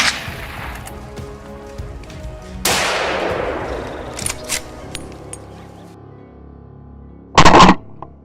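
A hunting rifle fires at a charging hog in open woods: a single sharp shot rings out and decays, followed moments later by another short, loud crack over quiet outdoor background.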